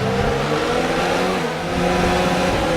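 F1 racing cars from the F1 2019 video game, including a Mercedes pulling away, roar under acceleration with a continuous high, revving engine drone that stays loud and steady throughout.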